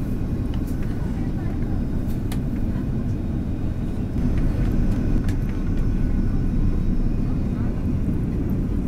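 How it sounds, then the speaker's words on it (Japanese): Qantas airliner cabin shortly before landing, a steady low engine rumble and airflow roar filling the space, with a few faint clicks and a slight swell in loudness midway. "まもなく着陸です。"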